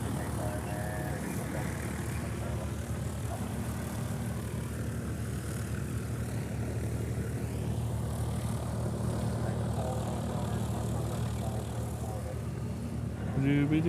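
An Airbus A380 airliner at Honolulu airport runs its engines nearby, a steady loud broadband roar and low hum sustained throughout as it prepares to depart.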